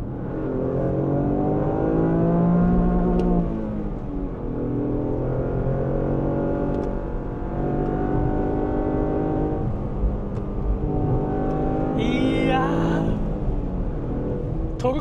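The engine of a Lexus LBX Morizo RR in 4WD mode revs up and down in rising and falling sweeps, heard from inside the cabin as a steady close drone with a brief sharp burst near the end.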